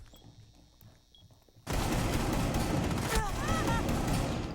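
Rainbow Six Siege gunfire bursts in suddenly after a quiet stretch and turns into a loud, dense, continuous rattle of shots that holds steady to the end.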